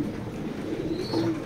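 Pigeons at a loft of racing birds coo softly in low, throaty rolling calls under a quiet background hum, with a faint chirp partway through and no talking.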